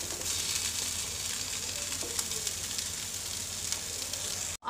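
Potatoes and chicken with vegetables sizzle in a frying pan. A steady hiss is broken by a few soft stirring scrapes, then it cuts off abruptly at the end.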